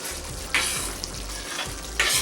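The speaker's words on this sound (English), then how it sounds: "Keep stirring this till the time I see it's slowly boiling." A spoon stirs shrimp curry as it sizzles and simmers in a pan. Scraping strokes against the pan recur rhythmically over a steady frying hiss, with no voices.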